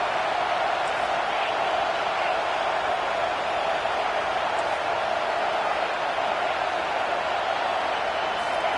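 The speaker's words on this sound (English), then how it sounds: "Decibels rising as the crowd gets behind this defense on 3rd down." A stadium crowd at a college football game against Kentucky cheers steadily on a third-down defensive play, a dense, continuous roar that stays loud throughout with no break.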